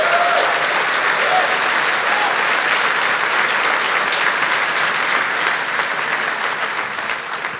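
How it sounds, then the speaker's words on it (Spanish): A church congregation applauds loudly and continuously during a sermon, dense clapping filling the room for nearly eight seconds before easing slightly. "den un aplauso fuerte"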